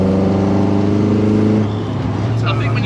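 An ex-racing Mk1 VW Golf engine on twin 45 carburettors revs hard and close, a loud, harmonically rich howl that holds and then drops away, with a voice speaking at the end.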